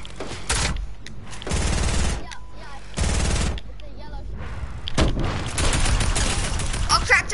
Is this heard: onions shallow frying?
no